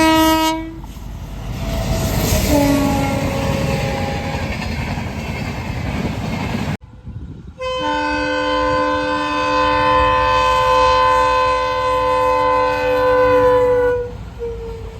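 A passing train on a line toward Dwarka sounds its horn in long, loud blasts as it rolls past, the wheels rumbling steadily beneath, with no voices.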